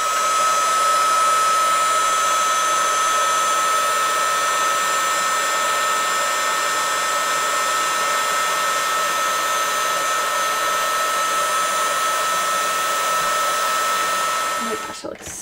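A heat tool melts glittery embossing powder on a stamped card with a steady, loud, hair-dryer-like whoosh and hum that runs continuously for about fifteen seconds before cutting off.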